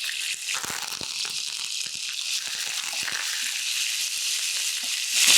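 Ginger garlic paste sautés in hot oil for chicken kurma, a constant bright sizzle close up with crackles and stirring scrapes, growing slightly louder at the end.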